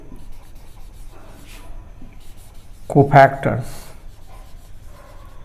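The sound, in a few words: writing out a matrix by hand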